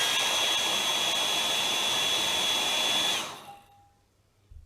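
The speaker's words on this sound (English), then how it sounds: "we're going to get our hairdryer and we're going to heat it up for a few seconds" A hair dryer blows steadily with a loud whooshing roar and a high whine while heating nail wraps, then switches off and winds down, leaving near silence.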